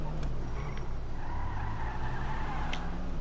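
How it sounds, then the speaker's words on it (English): Engine whistle from a car in the video game GTA, a steady high-pitched whine riding over a loud, continuous motor drone with brief tire-squeal-like streaks, no talking. "That's the main reason I drive this car, just to hear it whistle."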